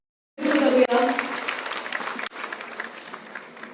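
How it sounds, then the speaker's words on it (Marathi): An audience at a public event breaks into clapping that begins sharply, swells, then tapers off, with a brief dip partway through before the applause picks up again. "मला वाटतं एकदा जोरदार टाळ्या वाजवून आपण आता करूया."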